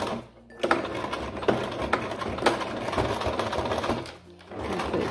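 A sewing machine stitching fabric straps, a loud close rapid mechanical whirr running in bursts with short pauses near the start and end.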